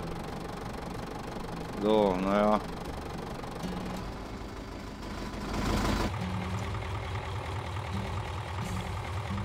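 A tractor engine in Farming Simulator 2011 runs steadily throughout, a mid-pitched idling drone that swells briefly toward the end, while someone talks over it.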